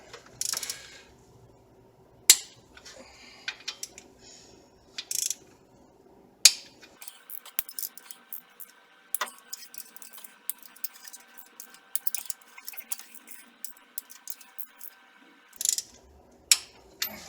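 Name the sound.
ratchet wrench snugging Equinox cylinder head bolts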